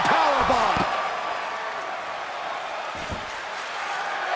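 An apron powerbomb in the WWE 2K24 wrestling game: a heavy body thuds onto the ring apron in a couple of sharp slams, followed by a sustained arena crowd roar.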